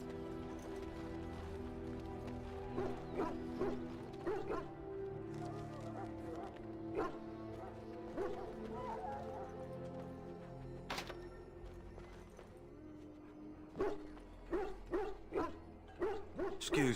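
Hounds in the Dragon Age: Origins video game bark in scattered bursts, clustering toward the end, mixed with clattering steps and ambient game sounds at a moderate distance.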